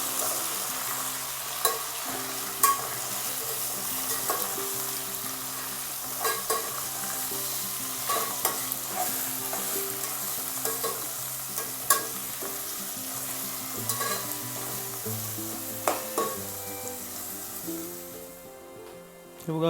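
Marinated mutton for a Divegar-style sukka fries in a hot pan, a steady sizzle broken by regular scraping and clattering strokes of a spoon as it is stirred.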